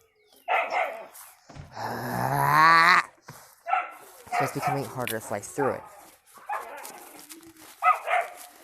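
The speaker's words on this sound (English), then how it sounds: "And the dogs are going crazy." Outdoors, dogs bark, yip and whine in the background while someone talks over them continuously, with one drawn-out whining cry standing out early on.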